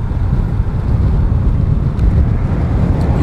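Strong wind buffets the microphone aboard a ferry crossing Cook Strait, a loud, steady low roar with gusting rumble throughout and no voices.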